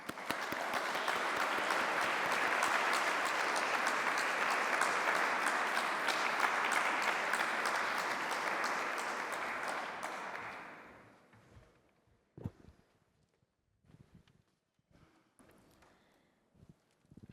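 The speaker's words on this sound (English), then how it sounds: "Please give them a massive round of applause." A large audience bursts into a sustained round of applause that holds steady for about ten seconds, then fades out, leaving quiet room noise and a few scattered knocks and shuffles.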